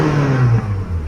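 A Maruti Suzuki Baleno Sigma BS6 car engine runs and revs up close by, a steady mechanical drone that swells briefly and then eases back, with no voices.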